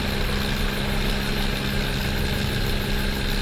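Aircraft engine running steadily just after start on battery power, a loud continuous droning hum with constant vibration and no change in pitch, filling the whole clip without voices.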